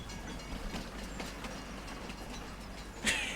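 A train in the video game Farming Simulator 25 rolls along with a steady rumble and soft rhythmic wheel clicks, ending in a brief sharp metallic squeal.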